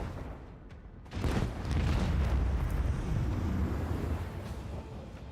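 Heavy booming barrages from macro cannons aboard a warship in Warhammer 40,000: Rogue Trader roll out as a dense, rumbling wall of explosions, swelling after a quieter start and sustained to the end.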